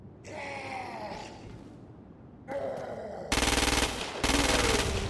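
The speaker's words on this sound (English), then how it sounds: "The ordnance you now hold is a standard issue agency assault rifle." Standard-issue agency assault rifle firing in the video game Crackdown 2: two loud, rapid automatic bursts near the end, following a stretch of game narration.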